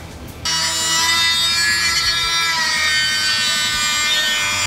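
A power tool cuts off a metal mount for a DIY bash bar on a 1JZGTE Supra drift car: a loud, steady, high-pitched metallic whine that starts abruptly and holds for about four seconds before cutting out.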